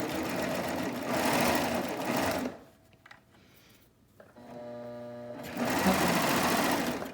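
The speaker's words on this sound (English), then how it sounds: "We're gonna fool our serger into making this seem like a straight line." A serger sews a curved pocket seam straightened out as it feeds, running loud and close in two long bursts split by a quieter pause with a softer whirring stretch.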